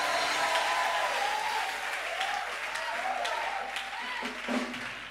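A church congregation claps continuously through the whole stretch, a dense, steady wash of applause with a voice sounding faintly underneath.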